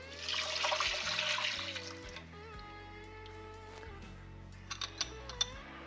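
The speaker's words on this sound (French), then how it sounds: "on rajoute le bouillon." Broth poured into a pot of vegan black bean chili makes a splashing rush through the first two seconds, then trails off under steady tones and a few light clicks.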